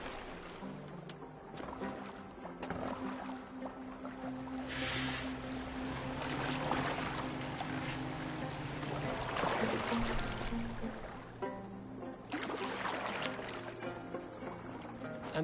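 A boat moves across water in the video game Assassin's Creed Valhalla, with continuous washing and splashing of waves against the hull under a low steady hum, fairly quiet throughout.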